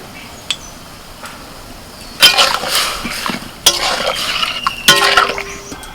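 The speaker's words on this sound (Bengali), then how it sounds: "ফোড়নটা হয়ে গেছে এবার ডালটা ঢেলে দিচ্ছি" Dal is poured into a pan over hot tempering for a jute leaf meal, bursts of splashing sizzle with clinks of utensils against the pan, coming in a few separate pours.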